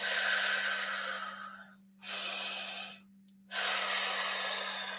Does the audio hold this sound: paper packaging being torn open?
no